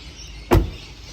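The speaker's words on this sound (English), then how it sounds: "So let's close the door." A Tesla car door shuts with a single short, solid thud, close and fairly loud, against a quiet background hum.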